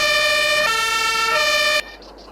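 A loud two-tone fire engine siren in the video game Farming Simulator 22 wails steadily, alternating between high and low pitches, then cuts off abruptly, leaving quiet background hum.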